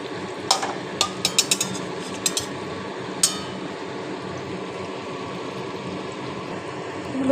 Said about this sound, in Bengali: গ্যাস কমিয়ে ভাজবেন যাতে পুড়ে না যায় ভাজাটাও ঠিক হবে